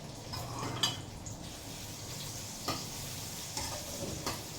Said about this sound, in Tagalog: Igisa natin yung ating sibuyas, bawang, luya